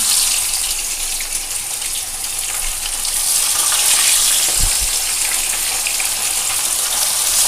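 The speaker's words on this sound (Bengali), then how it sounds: "এভাবে করে আমি ধীরে ধীরে মাছগুলোকে ভেজে নেব" Bhola fish fry in hot oil, giving a continuous, moderately loud sizzle and crackle throughout, with a brief low thump midway and no talking.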